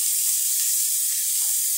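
Water poured from a vessel into a pot of vegetable pulao with beans, carrot and green peas, a loud, continuous splashing rush that lasts the whole moment.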